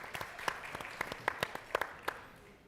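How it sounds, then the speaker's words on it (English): Audience applause at a convention session honoring a retired police deputy chief, heard as a faint, thin patter of scattered claps with a few sharper individual hits, fairly distant. "Give him a round of applause."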